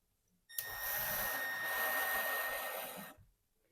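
A power driver sinks a 2-inch screw into a wall stud while a cleat is fixed for hanging a heavy picture or coat rack, giving one steady, close whirring burst of about two and a half seconds with no talk.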